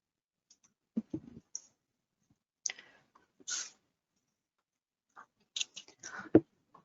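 A computer mouse clicks several times, close and crisp, as sparse short clicks separated by near silence, with no speech.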